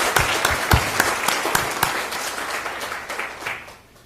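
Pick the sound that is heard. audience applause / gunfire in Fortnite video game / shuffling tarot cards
audience applause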